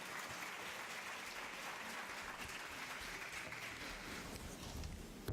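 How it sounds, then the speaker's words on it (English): Dense, steady applause from an audience at a World Tourism Day celebration fills the space for the dancers, continuous and moderately distant without breaks. "let's give our dancers a big round of applause again"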